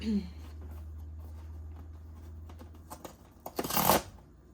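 A Fleischmann's Simply Homemade cornbread mix package being torn open in a kitchen, a brief, sharp ripping rustle near the end after soft handling of the packet, close and fairly quiet.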